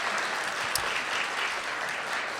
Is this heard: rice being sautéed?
no